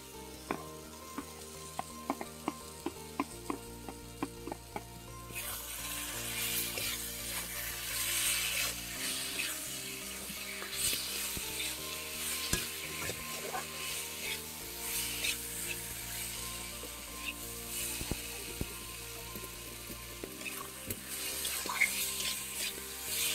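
Fried potatoes go into hot oil in a village-style kitchen as small puti fish curry is cooked, giving a steady broadband sizzle with scattered pops and stirring clicks that run for most of the stretch, with no voices.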